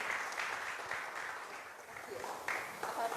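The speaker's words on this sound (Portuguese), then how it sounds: "E a minha salva de palmas para ela." Congregation applause during a live-streamed church worship service, steady clapping from many people, with voices rising over it toward the end.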